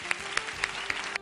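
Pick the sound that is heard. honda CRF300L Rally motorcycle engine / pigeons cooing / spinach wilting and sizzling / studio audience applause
studio audience applause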